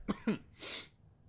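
A person coughs twice in quick succession, then gives a breathy exhale, close and fairly quiet, alone without talk.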